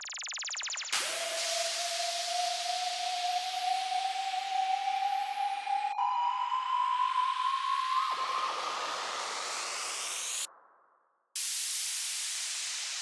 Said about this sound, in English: we just have a stack of sweeps and noise layers